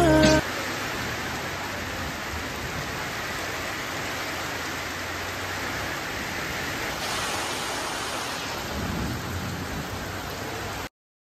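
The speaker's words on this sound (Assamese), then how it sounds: "বৰষুণ বহুত বেছি ডাঙৰকে আহিছিলে" Heavy rain pours at Chandubi Lake in Assam, a dense, unbroken hiss of downpour that stays steady and loud throughout before cutting off at the end.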